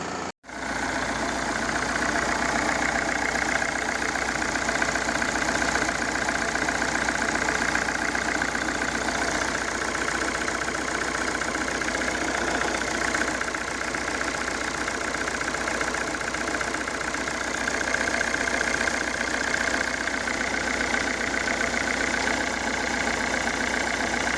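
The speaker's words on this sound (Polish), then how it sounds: "chciałem Wam pokazać, co się dzieje z tym silnikiem" A diesel car engine idles steadily and continuously with a rough, slightly uneven mechanical chug, close by and with no voices.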